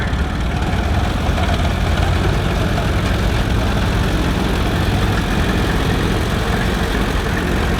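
An antique Allis Chalmers E tractor engine idles at a steam show, a loud, steady low rumble with a continuous chugging vibration, close by and uninterrupted, with no voices.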